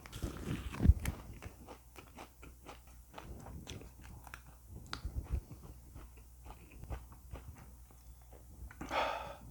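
Close, quiet chewing of pork belly, soft repeated crunchy bites in an irregular rhythm with no talking.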